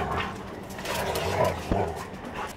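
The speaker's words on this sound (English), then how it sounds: "What are you puppies doing?" Puppies indoors in a reseller's inventory room make soft yips, whimpers and a few short barks, fairly close but moderately quiet, with no voices.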